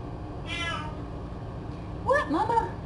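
Kitten meowing twice during a morning visit with a mother cat and her litter: a short high mew early on, then a louder pair of rising meows near the end, close by over a low background hum with a person talking.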